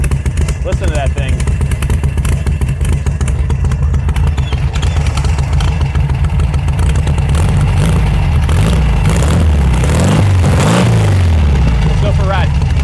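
A 1968 Volkswagen Beetle idling in neutral, a loud close air-cooled engine chug that rises into a couple of revs near the end, with clattery mechanical texture throughout.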